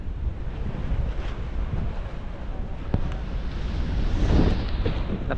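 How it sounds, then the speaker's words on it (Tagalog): Strong seaside wind at Mariveles, Bataan, roaring and buffeting the microphone in continuous gusts with surf-like washes, louder toward the end. "Lakas ng hangin dito."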